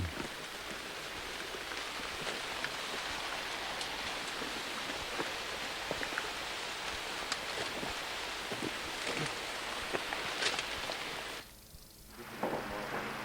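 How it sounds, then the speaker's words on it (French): Steady rain falls in a natural outdoor setting, a dense, continuous hiss of drops with scattered sharper patters, briefly dropping away near the end before resuming. "La pluie a attendu la fin de la récolte pour nous surprendre à nouveau."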